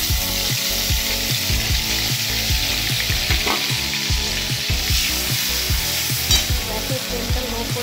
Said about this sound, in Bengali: গরম মশলা ফোড়ন দিয়েছি, তখন পেঁয়াজ রসুন বাটাটা এর মধ্যে দিয়ে দেবো।